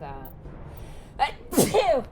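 A single loud, sharp sneeze near the end, just after a brief spoken word, heard during a Mass Effect 1 gaming session.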